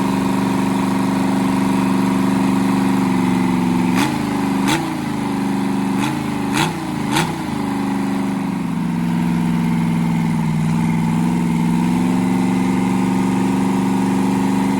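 A small-block Ford 289 V8 with a troublesome throttle linkage idles with a steady, loud, low rumble, blips up in a few quick revs near the middle, then settles back to a slightly lower idle, no talking.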